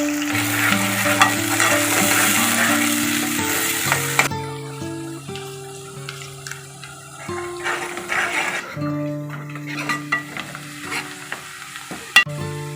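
Onions dropped into hot oil in a pan for mutton curry sizzle and crackle steadily, with stirring scrapes and shifting bursts as they fry, alongside faint background tones.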